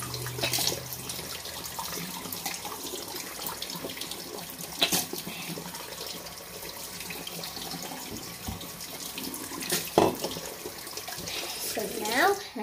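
A sink tap runs steadily for rinsing, a continuous close splashing of water with a few louder knocks and splashes.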